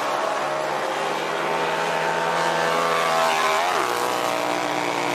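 A Harley-Davidson motorcycle launches up a snowy hill climb course in an X Games race, its engine a loud, steady drone that rises in pitch near the end, with no talk.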